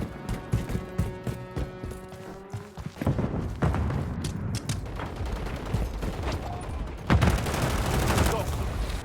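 Gunfire in a 10v10 match on the Tokyo map in Call of Duty: Modern Warfare 3, rapid automatic bursts and scattered shots crackling over busy game noise, with loud clustered volleys toward the end.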